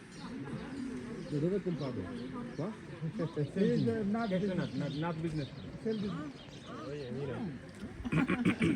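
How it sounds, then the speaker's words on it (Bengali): Pigeons or doves coo repeatedly in a date palm garden in Morocco, their soft rising-and-falling calls close and overlapping, with faint chirps and a brief rustle at the end. "পাখি ডাকতেছে"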